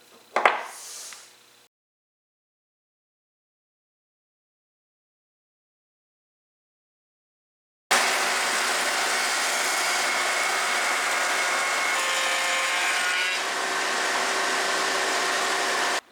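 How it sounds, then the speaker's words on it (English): An HSS tongue shaper cutter on a speed increaser cuts wood in a loud, steady, close machine roar that starts abruptly after a short early burst and a long silence, then holds for the rest. "I'll test this tongue shaper cutter."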